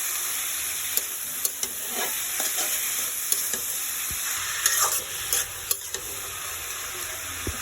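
Boiled greens with green chillies fry in a pan under a continuous sizzle, punctuated by sharp spatula taps and scrapes at irregular intervals, no one speaking.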